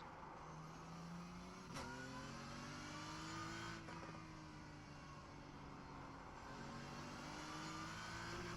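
BMW race car engine in the racing sim iRacing, revving steadily with rising and falling pitch sweeps as gears shift, loud and continuous throughout.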